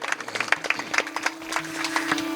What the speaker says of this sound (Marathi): जरांगे या चौघांच्यासाठी एकदा जोरदार सगळ्यांनी टाळी वाजवायची